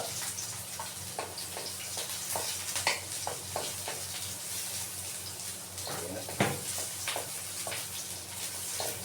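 Garlic and onion sautéing in a pan, a steady crackling sizzle with scattered utensil scrapes and clinks running throughout at close range, with no talk over it.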